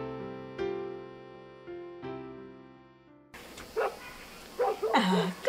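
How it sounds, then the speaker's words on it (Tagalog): Dogs bark at night in a short burst of a few sharp yips and barks, moderately close, coming right after a soft, sustained piano-like musical passage fades out. "Kahul ng kahul ang mga aso."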